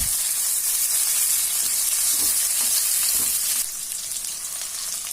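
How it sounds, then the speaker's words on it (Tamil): Onion, tomato, curry leaves and green chili sizzle and crackle in a hot oiled pan, a steady close frying hiss with occasional stirring scrapes, a slight drop in intensity partway. "கருவேப்பிலை பச்சை மிளகாயும் போட்டு ஒரு வதக்கு வதக்கிடலாம்"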